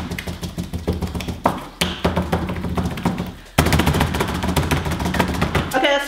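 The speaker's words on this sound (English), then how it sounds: "We'll poke at it, make some ASMR." Close, rapid tapping and squishing as fingers poke homemade slime for ASMR, quick repeated wet taps in bursts, with loud shuffling and handling noise around them.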